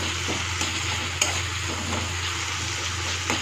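Soft tomatoes sizzle steadily in a hot pan while a spatula stirs and mashes them, with light scraping clicks over a constant frying hiss and a low hum.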